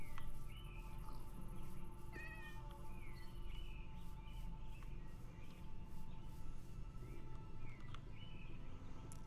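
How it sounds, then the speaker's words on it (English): A cat in the Minecraft video game meows several times in short repeated calls, fairly close, over a steady ambient bed with insect-like chirps and no talking. "Don't know what a cat is doing out here"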